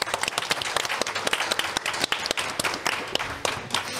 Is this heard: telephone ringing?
no